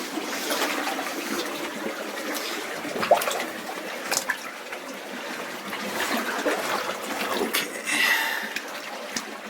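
Cold water sloshing and splashing steadily as someone wades deeper through a flooded mine passage with old timbers underfoot, a continuous close watery churn with occasional louder splashes.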